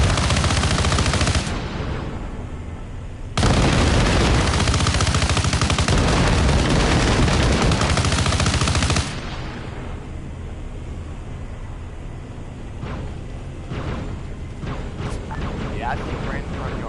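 Sustained automatic gunfire in the video game Arma Reforger with a Halo mod, loud dense bursts with brief pauses, then quieter distant shots with voices talking over it.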